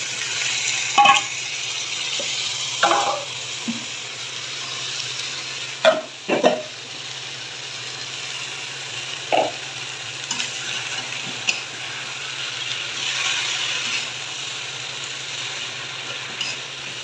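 Vegetables sizzling in hot ghee in a kadai, a steady low frying hiss broken by several sharp scrapes and clacks of a stirring spoon, close up with no talk.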